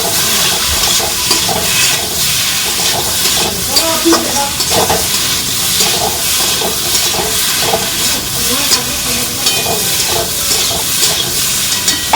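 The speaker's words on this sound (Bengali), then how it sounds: "এবার এটা কষিয়ে নেবো ভালো করে" Ground spices with salt and turmeric being stir-fried in a pan, making a loud, hissing sizzle broken by repeated scraping strokes of a spatula at a steady rhythm, with no one speaking.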